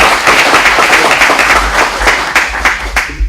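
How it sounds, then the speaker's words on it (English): Warm round of applause from an audience at a local government commission meeting, dense steady clapping close and loud for several seconds, tapering slightly at the end. "I think you all deserve a warm round of applause."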